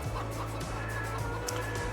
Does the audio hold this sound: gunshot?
no